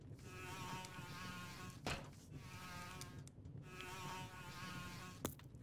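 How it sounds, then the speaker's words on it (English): A swarm of flies in The Whispered World buzzes in a steady, whining drone, close and faint, broken twice by brief sharp clicks. "It's swarming with flies."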